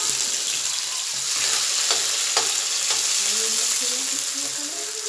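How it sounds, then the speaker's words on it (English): Onion, tomato, sweet pepper and scotch bonnet pepper sizzle steadily in a hot pan, a continuous frying hiss with occasional stirring clinks, close and even throughout. "And I'm going to go ahead and add my seasonings. And for this, I have onion, tomato, sweet pepper, and scotch bonnet pepper."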